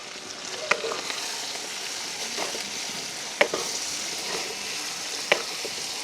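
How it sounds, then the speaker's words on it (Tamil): Onions sautéing with curry leaves in a pan, a steady hissing fry heard close, broken by three distinct spatula knocks against the pan, with no talk. "வெங்காயம் அப்படியே வதங்கி கொண்டு வருது"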